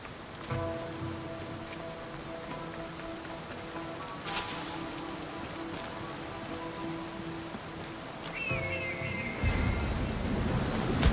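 Steady rushing water from a waterfall in Assassin's Creed Odyssey, a broad continuous roar like surf, with faint music tones beneath and a louder splashing surge near the end.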